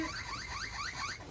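A parrot imitates a car alarm, whistling a fast, wavering siren-like warble that rises and falls in repeated loops, close and moderately loud.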